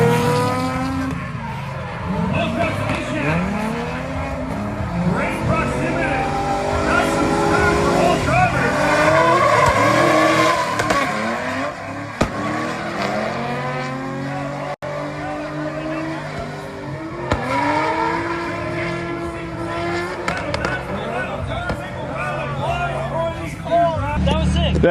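Drift cars battling in tandem on a track, heard from outside: engines rev and wail up and down in repeated sweeps with sustained tire squeal, loud and close, while people talk over it.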